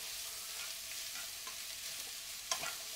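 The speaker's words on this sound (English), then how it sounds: "So I've got some oil in the pan with my onions straight in." Onions sweat in oil in a pan, a soft, even sizzle close by with light stirring scrapes and one sharp utensil clink near the end, no one talking.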